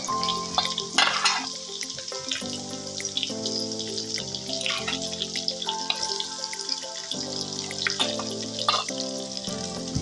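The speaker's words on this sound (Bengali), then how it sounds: "এর উপর কুটে রাখা পেঁয়াজগুলো দিয়ে দেব, দিয়ে ভাজতে থাকবো।" Onions fry in oil with a little sugar, giving a steady sizzle with stirring and clattering, and a tonal ringing hum sounds underneath throughout.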